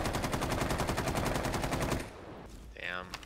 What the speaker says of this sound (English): Some suppressing fire I hear down there?